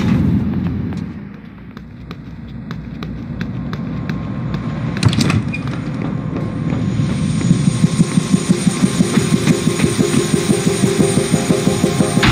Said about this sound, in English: Heard there's a chopper on the roof.